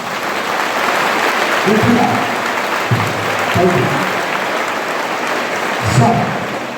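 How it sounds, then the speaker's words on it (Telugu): Students at a Mahatma Jyotiba Phule residential school in Nagarjuna Sagar clap hard for their parents during a motivation event, a dense, loud, continuous roar of many hands with a few low vocal bursts mixed in. "గట్టిగా 2 చేతులు పైకెత్తు మీ అమ్మకి మీ నాన్న క్లాప్స్ కొట్టి చూద్దాం"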